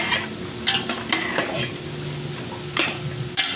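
Pork being stirred in a pan for Bicol Express, with a close, fairly loud sizzle and repeated clanks and scrapes of a utensil against the pan, with no voices.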